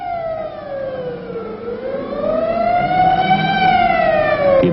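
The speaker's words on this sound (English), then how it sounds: "as directed by the mayor, the siren sounds once more." A civil defense siren wails steadily in the open, its tone sliding down then rising again in a long sweeping howl with harmonics, growing slightly louder over several seconds with no voices.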